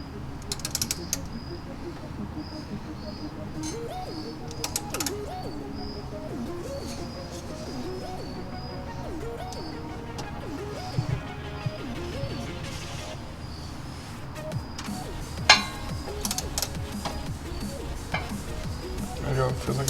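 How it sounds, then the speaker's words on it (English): Ratchet loosening a 12mm bolt on the steering bracket of a Subaru WRX, with repeated rapid clicking bursts of the pawl under steady background noise and a few louder metallic knocks. "we've got to loosen up this first 12mm bolt"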